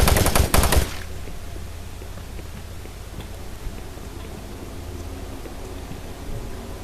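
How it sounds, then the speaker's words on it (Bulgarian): Gunfire aimed at the player in the video game Doom 3, opening with a loud, rapid burst of shots that cuts off after about a second, leaving a low, murky game ambience with scattered faint ticks. "Опа, нещо стреля по мен."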